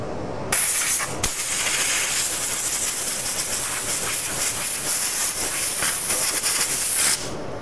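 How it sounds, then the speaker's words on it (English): A loud, steady hiss of compressed air blowing dust off in a woodturning shop, in a long continuous burst with a brief pause near the start, up close. "if you're just going to be blowing dust off of stuff in your shop"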